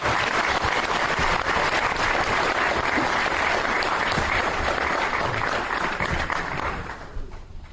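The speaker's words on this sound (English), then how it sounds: "Ladies and gentlemen, one more round of applause for Terry Alder, our newest Hall of Fame." An audience applauds at a county sports hall of fame induction ceremony, a dense sustained round of clapping filling the hall before tapering off at the end, with no talking over it.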